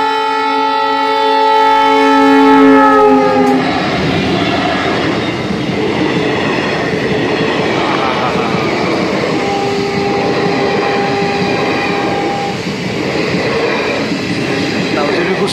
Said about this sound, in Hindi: ज़्यादा बड़ी ट्रेन नहीं है, छोटी ट्रेन है।